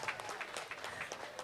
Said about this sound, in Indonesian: Tepuk tangan kagem Paten